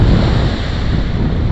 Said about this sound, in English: it's the ocean, the sound of the ocean, the sun.